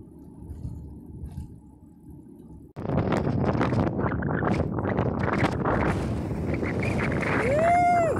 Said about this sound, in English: My goodness, that wind is strong.